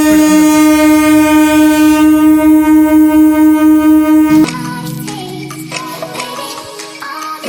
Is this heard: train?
yes